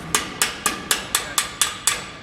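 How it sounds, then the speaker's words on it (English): A body hammer strikes sheet metal backed by a dolly during metal bumping, giving seven sharp, evenly spaced ringing metallic taps, close and clear with no talk. "you're going to hear a change in the hammer when you hit the dolly itself"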